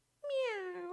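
A cat gives a single clear meow, rising and then gently falling, close and alone against near silence.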